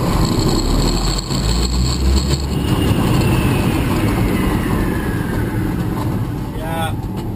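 An electric hot rod with two motors and batteries drives on a race track, a loud continuous rushing road and wind roar with a faint rising whine. Someone speaks over it.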